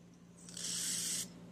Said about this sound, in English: Hit that with a little carb spray